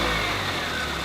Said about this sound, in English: Then we start her up and warm it up.